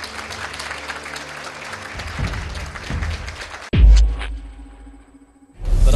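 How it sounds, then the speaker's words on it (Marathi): College students at Joshi-Bedekar College in Thane clapping together, a dense burst of crowd applause that cuts off abruptly, followed by a low thump and rumble, then a fresh swell of noise at the end. "अक्षरशः टाळ्यांचा गजर पाहिलेला आहे."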